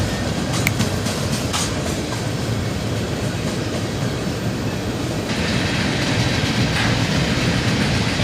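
A CSX freight train rolling across a bridge past a freshly painted GATX boxcar, a loud, close, continuous rumble of wheels and cars with faint rhythmic clacking throughout.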